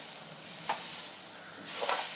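Scraped coconut goes into a hot pan for coconut mawa burfi, making a soft continuous sizzle with a couple of brief scraping bursts, close and fairly quiet, no voices.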